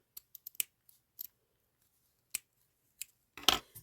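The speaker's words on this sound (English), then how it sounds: "I'm going to take my scissors. I'm going to give this a little edge" Scissors snipping satin ribbon while finishing a small crocheted Easter basket: a few sharp, close clicks and cuts spaced across the stretch, ending in a louder rustling snip.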